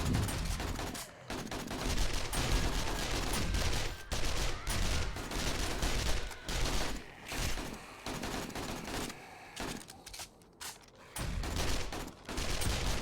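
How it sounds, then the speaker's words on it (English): Burst-fire gunshots ring out from a gun in 7 Days To Die during Horde Night, loud dense volleys of rapid shots that continue almost without a break, with brief pauses between bursts. "Oh, I forgot I have a burst fire trigger on this thing."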